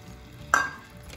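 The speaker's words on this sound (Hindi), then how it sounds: "ऐसे भुनेंगे" Masala with coriander powder and turmeric roasting and being stirred in ghee in a pan for shahi paneer, with a steady low sizzle throughout and a single sharp clink of the spoon against the pan midway that rings briefly and fades.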